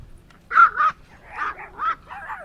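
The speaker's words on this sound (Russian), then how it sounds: "Меня атакуют собаки." Dogs bark at a lakeside spot at Lake Telbin in Kyiv: a close pair of sharp barks, then three or four more yips and barks in quick succession, loud against a quiet background.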